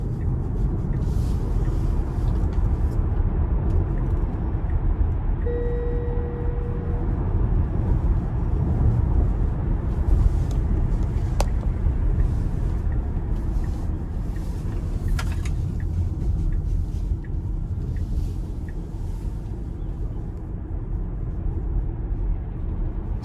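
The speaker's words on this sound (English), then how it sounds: "it's time we go ahead and take this 2022 Tesla Model Y long range out on the road for a quick test drive" A 2022 Tesla Model Y Long Range driving on the road, heard inside as a steady low road and tire rumble with faint whine and occasional small clicks, no one talking.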